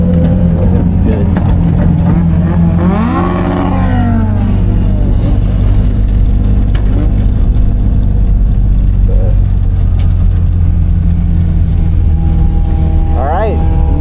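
At a night drift meet, a Nissan 240 drift car engine drones low and loud, revving up and down with whining climbs among other car noise, while people talk over it.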